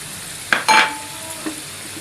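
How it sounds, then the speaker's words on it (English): Garlic tempering in hot oil until crispy and light brown, with a faint, close sizzle broken by a quick metallic clink and a short scraping stir, then a smaller knock. "Here we are tempering our garlic till crispy"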